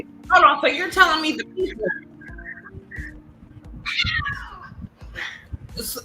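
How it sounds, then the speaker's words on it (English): A cat meows several times, some drawn-out and high, while a person talks nearby over a faint hum. "I do hear some meowing going on."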